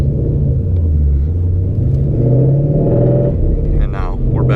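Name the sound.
Ford Mustang GT with cam tune accelerating from a stop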